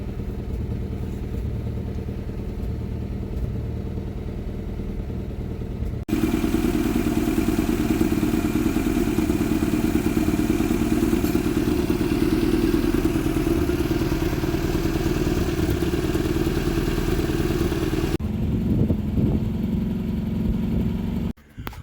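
Engine of a 1975 Vauxhall Viva HC barn find idling as it warms up, a steady close clattering hum that rises noticeably louder partway through, then drops back near the end.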